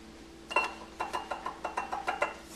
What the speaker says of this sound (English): Dump that in, and from there we'll just mix that up a little bit,